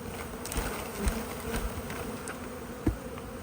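A steady buzz of many honeybees being installed from a nuc box into a hive fills the air, a continuous drone with a few faint knocks and bumps close by.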